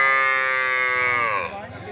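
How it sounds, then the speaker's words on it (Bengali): A crossbred heifer calf of about five months moos at a cattle market, one long, loud, drawn-out call close by that fades at the end. "ক্রস জাতের বকনা গরু"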